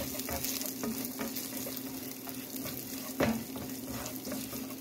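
Green and purple cabbage fries in a hot pan, a steady loud sizzle with occasional stirring scrapes and a sharper clatter near the end.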